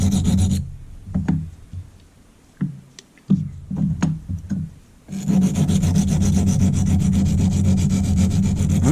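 A fine file rubbing across a silicon carbide stone to flatten it, with steady rasping strokes at the start and end and a stretch of short separate scrapes and taps in between.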